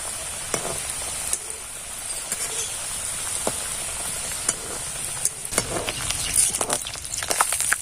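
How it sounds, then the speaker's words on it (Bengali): Pitha frying one by one in hot oil, a steady close sizzle and crackle with occasional sharper pops and stirring clicks throughout, no talking. "তেল গরম হয়ে গেছে এবার আমি পিঠাগুলোকে একে একে ভেজে নেবো"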